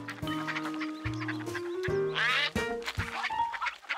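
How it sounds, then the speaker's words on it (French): Ducks quack repeatedly in a lively, overlapping chorus, with honking calls and harmonic squawks close by and no talking. "entouré de canards"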